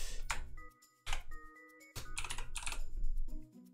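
Keys clatter on a computer keyboard, set to an English layout, in short bursts of quick clicks separated by brief pauses, close and crisp with no voices.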